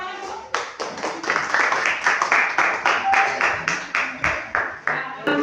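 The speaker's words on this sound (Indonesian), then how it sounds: "Beri tepuk tangan dulu." A classroom of students claps for a group presentation, a brisk run of sharp, distinct handclaps repeating in a quick, uneven rhythm for several seconds, fairly close and loud.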